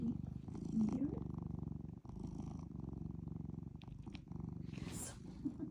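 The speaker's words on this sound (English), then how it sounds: "He's still purring, by the way." A cat purring close and steady in a continuous rhythmic rumble, with brief faint sounds above it.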